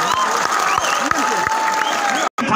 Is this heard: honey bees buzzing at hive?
no